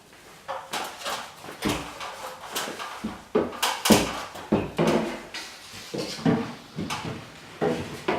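Knocks and scrapes as a kitchen bulkhead is slid and pushed into place in an L-shaped kitchen, a string of close wooden bumps and thuds in an uneven rhythm.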